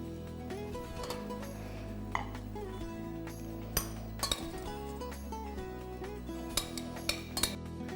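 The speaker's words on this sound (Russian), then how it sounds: "Теперь готовую кашу мы выкладываем в тарелку или чашку." Buckwheat porridge being spooned into a bowl: soft clinks of a spoon against dishware, scattered and quiet over a faint background.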